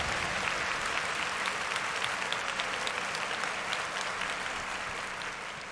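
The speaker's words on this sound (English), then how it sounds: "Clap it up for me." Audience applause fills the space as a dense, continuous wash of many hands clapping, steady and even before tapering slightly at the end, with no voices on top.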